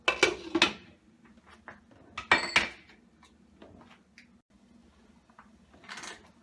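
A lid set onto a cooking pot of shrimp curry left to simmer, giving a couple of sharp metallic clatters near the start and another clank a moment later, over a low steady hum and quiet kitchen handling noises.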